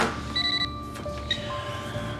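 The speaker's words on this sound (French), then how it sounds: "Zach, laisse faire le téléphone." A telephone rings in a home, a bright electronic trill with steady tones stacked high, repeating through the moment under low room noise.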